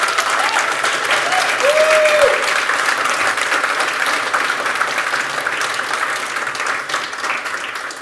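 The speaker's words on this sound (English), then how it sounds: "big round of applause for our tech sponsors" Steady applause from a keynote audience at an XR and AI glasses conference, honoring tech sponsors; dense, even clapping fills the room throughout with a brief whistle-like tone early on.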